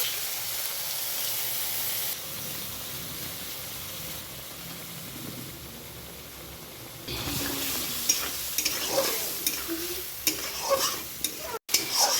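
Spice paste being stir-fried in a pan: a hissing fry that grows louder midway, joined by repeated scraping and clacking strokes of the spoon against the pan, close by.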